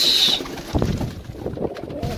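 Pigeons in a crowded loft give soft low coos amid shuffling and light thumps, preceded by a brief high-pitched tone, all fairly close and without talk.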